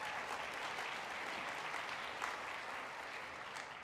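At an event on scaling food waste solutions, a large audience gives a round of applause, a continuous, even roar of clapping that stays steady throughout at moderate distance.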